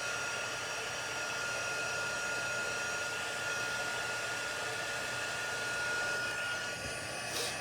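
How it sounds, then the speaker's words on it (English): A small heat gun blows steadily at close range while heat embossing white embossing powder, a constant airy whooshing hum that runs the whole time with no talking. "And then we are going to use our little heat gun and heat emboss."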